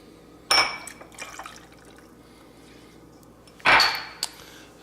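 Maker's Mark bourbon pours into a glass over ice for a classic old fashioned, two short bursts of liquid splashing and clinking against ice, separated by a quiet pause, close and fairly soft.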